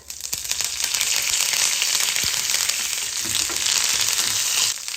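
Curry leaves frying in hot oil with urad dal, a steady close crackling sizzle throughout with a few sharper pops.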